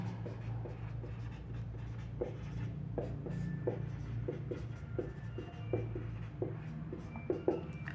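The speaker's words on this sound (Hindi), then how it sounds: "यहाँ लिख लेते हैं" Chalk or marker writing on a board during a Hindi maths lesson, steady scratchy strokes in short repeated bursts over a low background hum, with no voice in the gap.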